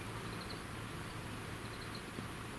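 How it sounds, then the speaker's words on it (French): Steady, faint buzzing of small insects fills the air over moorland, a continuous high drone with soft outdoor hiss and no voices. "Il y a les petits insectes qui font du bruit."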